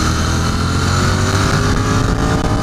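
Royal Enfield Continental GT 650 motorcycle engine running loud and steady throughout, a dense continuous engine roar with strong low rumble and no talk.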